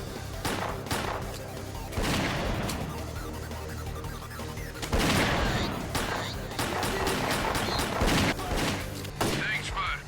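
Gunfire in the game STALKER: Clear Sky, with repeated bursts and sharp shots in loud clusters, near and dense, over a steady low background.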